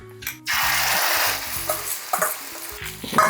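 Egg mixture for a large omelette hits a hot pan with a loud burst of sizzling, followed by steady frying hiss and scattered clicks and scrapes of a utensil.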